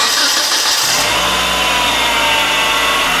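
A 1997 Nissan Altima engine idles roughly with a misfire, a loud steady mechanical drone with an uneven low throb and whining noise, close to the engine bay, with no talk.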